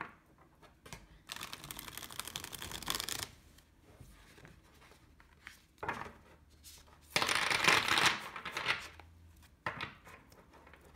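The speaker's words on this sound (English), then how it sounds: "I'm going to give this a nice shuffle." A tarot deck with thick cardstock is shuffled by hand in two loud bursts of rapid, flapping card noise, separated by quieter handling and rubbing sounds.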